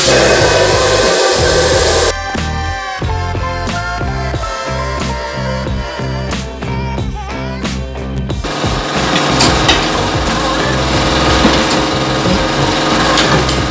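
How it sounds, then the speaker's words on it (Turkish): Loud mechanical machine noise with a steady grinding drone, rhythmic clunks and harsh scraping, as a motorcycle tire is worked off its rim. "Bu makine sadece motosiklet, motosiklet lastiği sökmek için dizayn edilmiş bir makinedir."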